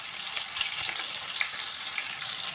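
Sliced onion and green chillies fry in hot oil with a continuous bright, hissing sizzle, even and close, with no voices over it.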